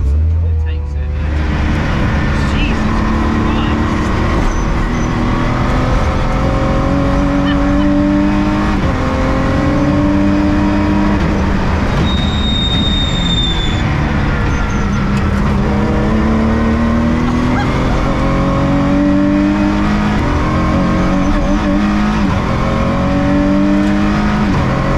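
A Ginetta race car driven hard on a circuit track day, its engine droning and climbing through repeated rising gear pulls, loud and close from inside the cabin, with people talking over the engine.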